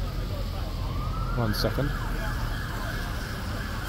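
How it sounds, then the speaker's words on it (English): A police siren wails through city streets during a huge protest near Horse Guards and Piccadilly in London. A brief rising and falling sweep sounds mid-distance over steady crowd and traffic noise, and a voice speaks briefly. "Police sirens in the background, vans in the off streets."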